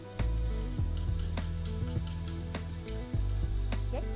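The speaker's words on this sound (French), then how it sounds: "Faire revenir les oignons, ajoutez 2 gousses d'ail pressées" Onions and pressed garlic sizzling in olive oil in a large pan, a steady frying hiss close up under a sustained background music bed.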